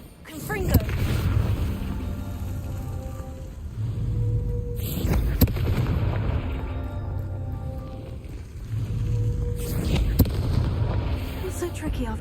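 Confringo spell explosions in Hogwarts Legacy, three sharp blasts spaced a few seconds apart, each with a crack and a booming rumbling tail, over continuous background sound.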